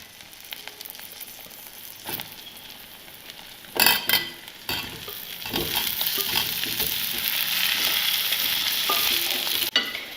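Peeled potatoes sizzle in hot oil in a pan, with a few sharp scrapes and clinks of a stirring spoon, then a steady frying hiss that builds and holds.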